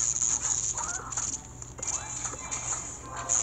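Chickens in the video game Plants vs. Zombies 2 cluck and chatter in a busy flock, with soft pattering underneath and a constant high electronic hiss over everything.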